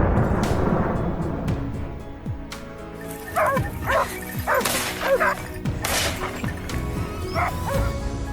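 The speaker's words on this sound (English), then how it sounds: "Hunting dogs are released to drive the boar herds out of bushes into open areas, making it easier for hunters to shoot." Hunting dogs bark and yip during a wild boar hunt, a loud close flurry of overlapping barks with whimpers and thrashing crashes through brush, irregular bursts across several seconds.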